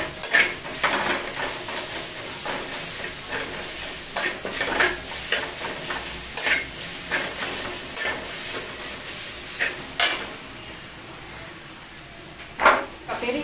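Ginger-garlic paste, heavy on the garlic, frying in a pan for a vegetable curry: steady close sizzle and hiss with repeated scraping stir strokes throughout, loudest near the end.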